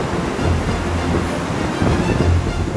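A waterfall in Iceland rushes in a dense, loud, unbroken roar of falling water with a low rumble beneath.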